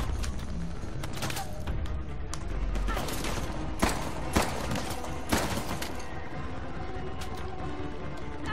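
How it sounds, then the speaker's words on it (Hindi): Heavy gunfire in the Uncharted: The Lost Legacy video game, a dense, sustained barrage of shots with several sharper, louder bursts partway through and no pause. "गोलियां का बहुत चला रहा है यार, वो तो सामने से रुक ही नहीं रहा"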